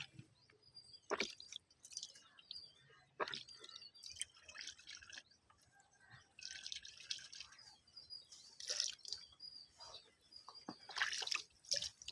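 Tractor diesel filter part being washed in diesel fuel, with faint, sparse liquid drips and small splashes in irregular bursts, heard close but quiet against a soft background with occasional bird chirps.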